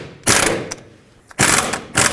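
A ratchet wrench tightens the top sway bar link on a 2008-2010 Ford F-250, with two close, loud bursts of rapid clicking separated by a short pause and a brief click between.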